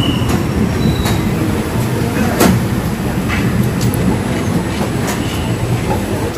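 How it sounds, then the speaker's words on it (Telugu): A delayed passenger train pulls out of platform 5 at Tirupati, a steady loud rumble of rolling coaches with faint rail clicks and a brief squeal near the middle, no talk. "ట్రైన్ బయలుదేరింది చూస్తాను కదా, 7 మినిట్స్ డిలేతో బయలుదేరింది ట్రైన్."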